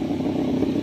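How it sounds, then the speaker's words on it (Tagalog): An Aprilia motorcycle riding past on a road, a loud, close steady engine drone with a clattery edge, brief and without talk. "So ito na yung mga riders oh, yung motor."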